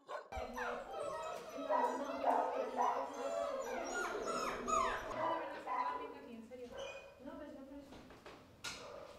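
Many dogs bark, yip and whimper together at an animal shelter housing dozens of dogs and a new litter of puppies, a dense continuous chorus with someone speaking over it.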